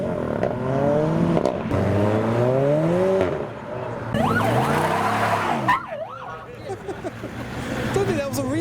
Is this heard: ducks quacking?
no